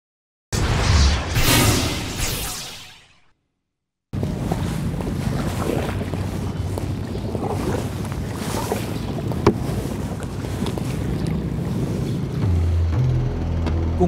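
Fishing boats on Laguna lake dragging a net: a brief gusty burst fades out, then after a short silence a steady engine drone and water wash run continuously, with a low thumping toward the end.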